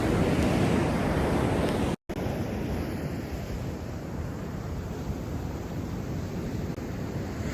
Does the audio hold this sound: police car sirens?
no